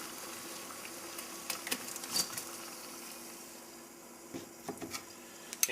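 Water at a rolling boil in a cocktail can heated by a penny alcohol stove burning denatured alcohol gives a faint, steady bubbling and hiss with occasional small pops and ticks.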